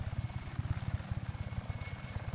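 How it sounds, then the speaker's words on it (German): Large helicopter in flight in the video game Just Cause 3, a steady close rotor thump beating rapidly and evenly under a broad engine whine. "mit so einem dicken Heli bin ich auch noch nicht geflogen"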